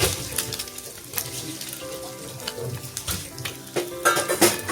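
Eggs and onions sizzling in a hot pan for restaurant-style chicken noodles, steady frying crackle with scraping stirs and faint clinks of a utensil against the pan, close and moderate in level.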